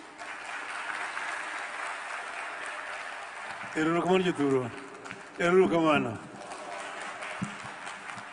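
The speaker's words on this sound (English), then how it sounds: "Another round of applause for His Excellency" Audience applause at a Madaraka Day 2025 ceremony at Tom Mboya University, Homa Bay, following a speech; steady crowd clapping fills the clip at moderate distance while an announcer's voice speaks over it in two short bursts.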